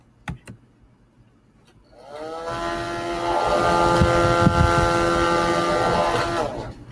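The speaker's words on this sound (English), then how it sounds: "was to use a higher setting on the fan motor." A fan motor switches up to a higher speed setting: after two faint clicks it spins up over a couple of seconds into a steady, loud whirring drone with a tonal hum, holding constant until it winds down at the end.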